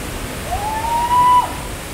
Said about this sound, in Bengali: কিরকম প্রবল বেগে জলটা বয়ে আসছে দেখুন পাহাড়ের উপর থেকে।